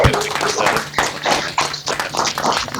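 Quick, sharp handclaps sound close to the microphone at an online corporate recognition awards, a brisk, uneven run of applause lasting a few seconds.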